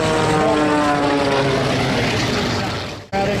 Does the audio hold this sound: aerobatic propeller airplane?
yes